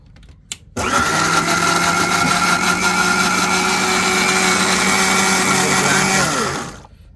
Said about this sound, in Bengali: সোয়াবিন তেল এখন একটু ব্লেন্ড করে নেব